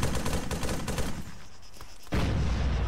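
Gunfire in the military shooter game Arma 3 crackles in a dense, loud burst of rapid shots, falls away to a brief quieter gap, then opens up again in another heavy volley.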